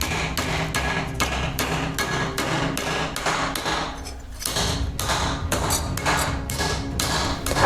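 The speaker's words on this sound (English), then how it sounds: "I take a bent copper plate and I straighten it using a hammer and the vises" A hammer strikes a bent copper plate held in a bench vise, about a dozen sharp metallic blows at a steady, fairly quick rhythm, loud and close with ringing after each hit and a brief pause midway.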